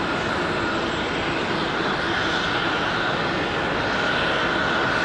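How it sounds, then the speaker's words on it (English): Aer Lingus airliner approaching Raleigh-Durham International Airport under a low cloud ceiling, a loud, steady broadband jet engine roar that holds constant throughout, no talking. "Aer Lingus is pretty close. There it is, popping through the clouds."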